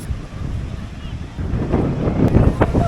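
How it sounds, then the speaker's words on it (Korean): Strong wind buffets the microphone on a South Padre Island beach, a steady roar that swells louder toward the end, with rough surf churning beneath it. "바람이 너무 많이 부는 거 아닌가 이거?"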